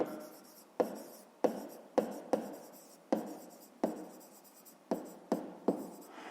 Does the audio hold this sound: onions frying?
no